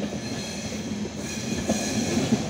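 The 12225/26 Kaifiyat Express pulls into Lucknow Junction, its wagons rolling past close by in a steady, dense rumble with faint wheel clatter and a little squeal, and no voices.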